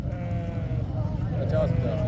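Goats bleat at a goat market in Dera Ghazi Khan ahead of Eid sacrifice, a wavering cry rising over a dense crowd hum with people talking throughout.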